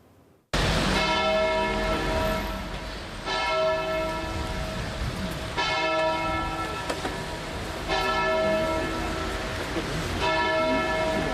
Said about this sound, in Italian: Rintoccano le campane